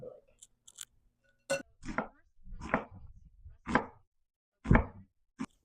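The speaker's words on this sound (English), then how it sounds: "I'm going to slice it. You don't need to slice it very thin, just regular slice." A knife slices through onion on a cutting board for French onion soup, six or so crisp, separate cuts spaced about a second apart, close and clear against near silence.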